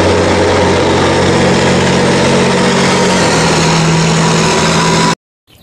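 Toy military truck carrying a missile, heard as a loud, steady engine drone with a buzzing, rumbling tone that holds for about five seconds before stopping sharply.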